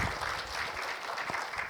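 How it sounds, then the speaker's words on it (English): An audience at a literature festival talk claps in a brief, steady burst of applause, faint and distant throughout. "Please give a big clap."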